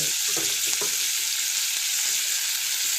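Potatoes, onions and peas sizzling in a frying pan, a steady loud hiss with a few stirring clinks near the start, heard close up and without talking.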